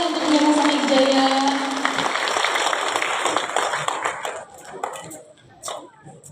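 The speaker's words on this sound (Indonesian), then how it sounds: "Boleh tepuk tangannya untuk Wihara Samanijaya." Audience applause for the third-place winner, Wihara Samanijaya, at a Gema Waisak Buddhist celebration, loud and dense at first under a sustained musical tone, then thinning into scattered claps that fade out.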